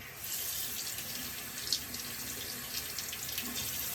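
Running tap water wets a synthetic shaving brush at a sink, a steady broadband hiss and splash held close and fairly loud throughout, with a few brief louder splashes.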